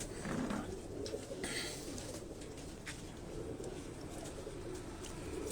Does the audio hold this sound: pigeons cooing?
yes